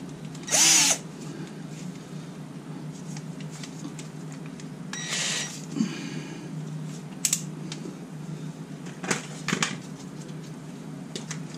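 Short bursts of a power drill whirring, a few seconds apart, with clicks and handling noises between them, while securing fuel, vapor and brake lines on a Jeep TJ.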